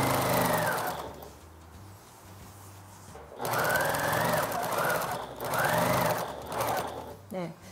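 Sewing machine stitching a cotton apron strap in bursts of rapid, whirring needle runs separated by pauses, with someone speaking over the stitching between runs.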